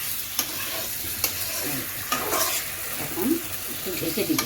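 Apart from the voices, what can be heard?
sautéing prawns in spice masala in a pan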